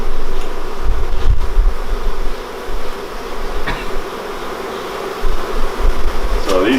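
A honey bee swarm taken from a garage buzzes loudly and close, a dense continuous drone with individual bees swelling past the microphone in uneven surges.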